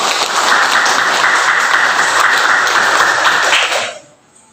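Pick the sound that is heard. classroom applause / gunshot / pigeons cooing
classroom applause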